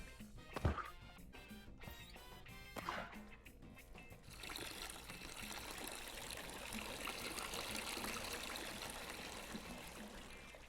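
Liquid poured into a home-brewing vessel, a steady trickling and splashing stream that starts with a few clunks and then runs continuously and fairly close, without speech.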